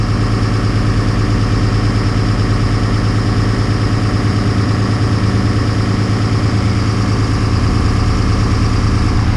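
A skid steer's diesel engine runs steadily at a loud, even idle, its low droning rumble and vibration continuous without any change in pace.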